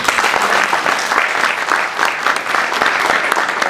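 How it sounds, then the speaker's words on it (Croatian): Conference audience applauding in a hall at a regional business conference, steady dense clapping sustained evenly throughout, fairly close and loud with no talk over it. "Molim vas veliki aplauz za gospodine."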